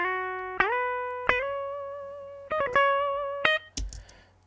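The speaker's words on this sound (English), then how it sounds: "It's a completely dry DI signal recorded straight into the audio interface," A completely dry direct-input electric guitar lead line with no amp, clean plucked notes with slides and quick bends, each ringing and decaying, several notes in a short phrase ending in a muted scrape, close and alone.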